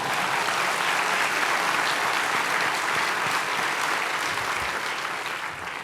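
Steady, dense applause from an audience at an award ceremony fills the whole stretch, continuous and loud with no breaks or voices rising above it.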